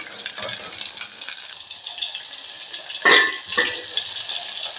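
Shallots, garlic and tamarind sauté in a pan with a continuous close sizzle, and a louder burst of frying and stirring comes near the middle.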